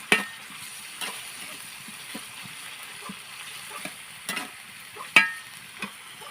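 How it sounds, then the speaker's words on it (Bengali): Ground coriander, dried chili and cumin frying in a pan for a chickpea curry, giving a steady soft sizzle with the scrape and clink of a stirring spoon at intervals. "ধনিয়ার গুঁড়া, শুকনো মরিচের গুঁড়া, জিরের গুঁড়া। মশলাটা আমি এখন ভালোভাবে কষে নেব।"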